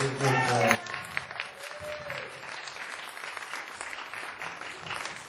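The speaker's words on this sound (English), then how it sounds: "How about another round of applause for Kara?" Audience applause fills a hall at a Sunday Assembly gathering in Pittsburgh, loud and dense at first, then breaking off sharply into scattered claps and murmurs.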